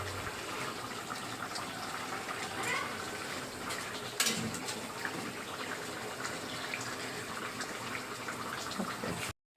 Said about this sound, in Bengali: এই যে শাক বাগা দিচ্ছি